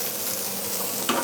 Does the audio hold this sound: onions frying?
yes